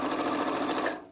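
A sewing machine runs steadily, stitching a binding strip onto a star place mat with a quarter-inch seam allowance and a 2.4 stitch length. The close, even whir stops abruptly near the end, with no talking.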